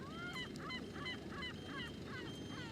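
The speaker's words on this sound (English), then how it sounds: "I'm grateful to the sounds of the truck and the seagulls." Repeated honking seagull calls, rhythmic and somewhat distant, over a steady low rumble of a truck.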